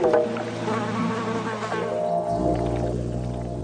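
Bumblebees buzzing among garden flowers in the middle of the flowering season, a steady close drone with wavering pitch as insects move about, with no voices.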